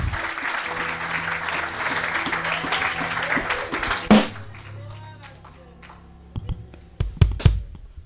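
A church congregation in Béthune, France, applauds Jesus in a dense, sustained round of clapping that stops abruptly about halfway through. A few scattered claps and taps follow in the quieter room.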